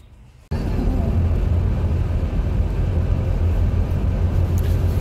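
A car sets off in heavy rain. After half a second of near quiet, a loud, close, rumbling engine and road noise kick in abruptly and carry on steadily to the end.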